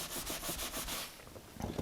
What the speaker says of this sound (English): just sand that a little bit where it's real thick